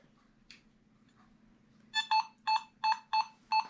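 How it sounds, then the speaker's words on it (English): A Nokta Makro Simplex+ metal detector responds over an Indian head cent with five or six sharp, evenly spaced electronic beeps, clear and close after a quiet lead-in. "On the Simplex, the Indian head scent's ringing in at 66"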